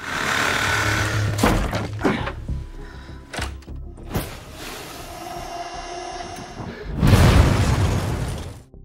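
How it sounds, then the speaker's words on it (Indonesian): Loud booms and crashing debris sound in a dramatic film explosion aboard a train, with sharp impacts and a final heavy roaring blast. "Ryan terluka parah akibat ledakan tersebut"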